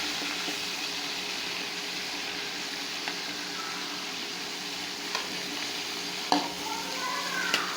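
Fish fry lightly in a frying pan with a steady, close sizzle and spatter. Occasional clinks of a utensil against the pan come near the end.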